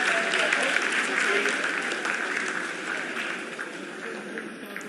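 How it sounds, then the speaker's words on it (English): Sustained applause fills mission control during India's Chandrayaan-3 lunar landing, with dense, steady clapping from many people across the room that slowly eases in level, while voices murmur beneath it. "आप तालियों के गड़गड़ाहट से सुन सकते हैं"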